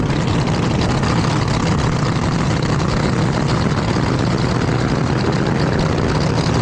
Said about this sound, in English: The reason you get that really nice cackle out of these cars